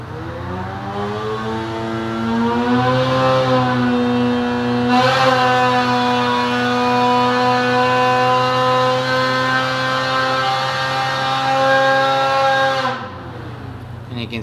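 Ski-Doo 850 snowmobile engine fitted with a Bikeman Ultimate 911 kit, run on a dyno with the pipe warming up; a loud, sustained two-stroke scream climbing in pitch, holding at high revs, then dropping off sharply near the end.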